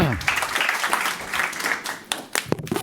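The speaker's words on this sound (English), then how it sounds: "Please, big round of applause" Conference audience at a talk on a Matrix messenger breaks into applause welcoming the next speaker, dense clapping filling the room for a couple of seconds before thinning into scattered claps at the end.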